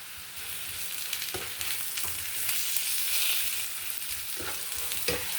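Potatoes with a generous amount of dill being stirred in a pan: a steady frying sizzle runs throughout, broken by several distinct scraping strokes of the utensil against the pan, close and fairly loud, with no talking.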